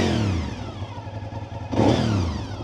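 A 2002 Honda VTR SP2 (RC51) V-twin superbike with non-original silencers idling nearby with a lumpy, throbbing note, then a sharp, loud rev blip near the end, with no voices.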